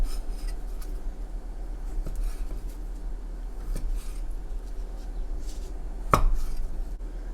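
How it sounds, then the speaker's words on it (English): A knife cuts through Chinese sausage on a board for sausage fried rice, giving a few sparse, soft thuds spaced seconds apart over a low, steady kitchen hum, with the sharpest cut near the end. "just gonna go ahead and cut it"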